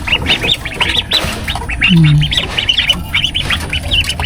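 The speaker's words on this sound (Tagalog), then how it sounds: "Tingnan ko nga yung yung itik." Ducks on a farm quack and squawk in a dense, rapid chorus close by, with a deeper call briefly rising in the middle of the noisy flock.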